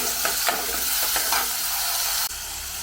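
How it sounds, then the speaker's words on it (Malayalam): Onions and other ingredients sizzle and fry in hot oil in a pan while a spoon stirs them, a loud continuous hiss with scraping strokes in the first half, then a quieter steady sizzle. "അതേ എണ്ണയ്ക്കകത്തേക്കാണ് ഇതെല്ലാം ഇട്ട് കൊടുക്കുന്നത്. ഇതൊന്ന് വാട്ടിയെടുക്കണം."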